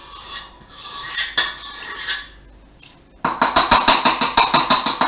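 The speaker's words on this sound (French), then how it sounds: "Donc je racle bien pour arriver à mettre ma dernière et 3e cuillère" Metal spoon scraping pavlova meringue mixture from a bowl, first several irregular scrapes, then after a short pause a fast run of rhythmic clinking scrapes, close and clear.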